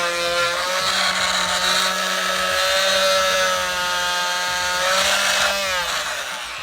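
A Dnipro-M MF-42SEQ oscillating multi-tool runs with a loud, steady high-pitched whine, continuous and close by, with a slight dip and rise in pitch partway through.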